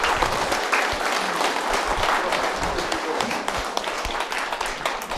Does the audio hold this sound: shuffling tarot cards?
no